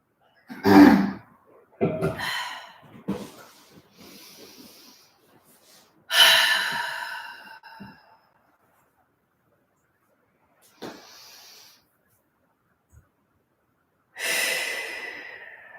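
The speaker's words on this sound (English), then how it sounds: "Breathing out through your mouth like that with your tongue out" Several forceful breaths pushed out through the mouth with the tongue out during yoga practice, each a loud rushing exhale followed by silence, close and unaccompanied by speech.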